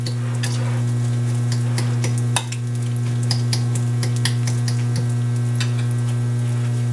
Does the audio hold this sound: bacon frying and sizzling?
yes